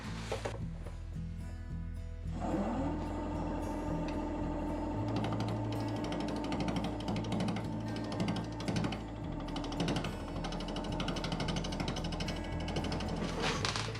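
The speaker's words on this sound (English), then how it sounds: "I'm going to be turning at 750 RPM with my 3/8 inch bowl gouge" A maple burl bowl spins on a wood lathe at 750 RPM while a 3/8 inch bowl gouge cuts it, giving a steady mechanical hum overlaid with a continuous rough scraping chatter that runs loudly throughout.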